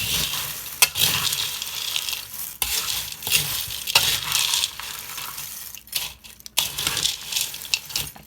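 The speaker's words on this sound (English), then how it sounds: "I'm going to stir this around and get it mixed in" Dry Chex Mix pieces seasoned with onion powder are tossed and stirred in a bowl, giving a steady close rattling crunch with brief clinking accents, no talking.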